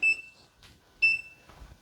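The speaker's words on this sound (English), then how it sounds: "That is beeping from the inverter because of low voltage." An inverter sounds its low-voltage warning while a LiFePO4 lithium battery is being capacity tested: two sharp, high electronic beeps about a second apart, clear over a quiet background.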